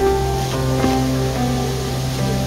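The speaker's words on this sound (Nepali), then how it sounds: "नमस्ते झरना" At Namaste waterfall near Bhedetar in Nepal, falling water makes a constant broad rushing roar, level and unbroken, with soft musical tones layered underneath.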